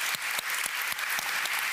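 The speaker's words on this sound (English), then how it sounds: "Big round of applause." Audience clapping for models and dresses at a live tech and fashion event, a brief burst of dense applause with a few sharper individual claps standing out.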